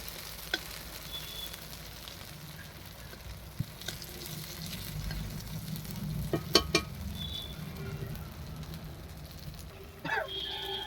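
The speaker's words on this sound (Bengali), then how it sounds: "আমি দেখতে পাচ্ছি সুন্দর ভাজা হয়ে আসছে" Ground spices fry in a pan for a bhetki fish curry being cooked on a rooftop in winter, giving a steady close sizzle with a few sharp stirring clinks midway and near the end.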